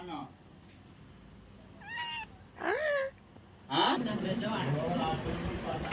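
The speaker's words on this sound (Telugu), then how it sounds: "పిల్లి నెంబర్ 1." A cat meows a few times, short harmonic calls rising and falling, ending in a longer, louder meow over faint background noise.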